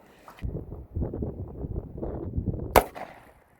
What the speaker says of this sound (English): 210 grain 45 ACP Federal Hydroshock Deep, take 2.